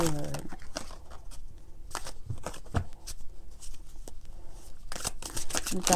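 Tarot cards from an Alice in Wonderland themed deck are shuffled and drawn, giving crisp bursts of riffling and flicking with short pauses between them, close to the listener.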